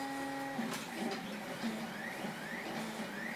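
A 3D printer runs quietly with soft whirring stepper-motor tones, rising and falling pitch sweeps and faint mechanical clicks, steady and low in level.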